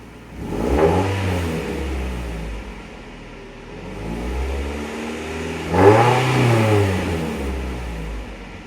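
A Mazda MX-5 Miata engine with a new muffler exhaust revs up twice, each time swelling into a smooth, moderately loud rising and falling drone over a steady idle rumble, close by.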